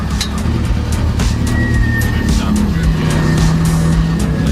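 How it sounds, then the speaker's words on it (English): A rally car's engine drones loudly up close while driving through city streets after night stages, a steady roar with shifting pitch and faint tire noise throughout. "the car's intact, it's running"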